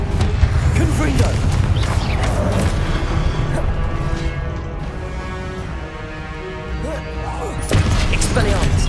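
Booming blasts from the Confringo spell in the Hogwarts Legacy video game, heavy crashes rolling through a dense, continuous battle din, with a voice calling out over the fighting.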